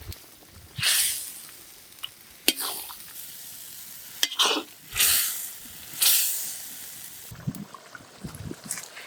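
Chilli, coriander and chicken masala powders are stirred and fried in a cooking pot outdoors. Loud bursts of scraping and stirring rise over a hissing sizzle, with a few sharp clinks of a spoon against the pot.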